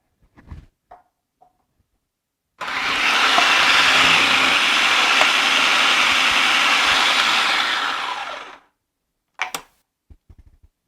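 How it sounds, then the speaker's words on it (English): A food processor whirs through a small piece of onion in one loud, steady burst of about six seconds, bracketed by a few faint clicks and knocks before and after. "I am going to just process a little piece of onion really quick."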